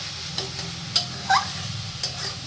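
Jute greens and eggplant frying in a pan, stirred with a steady soft sizzle and a few sharp scraping clicks of the spatula against the pan, close and continuous without talk.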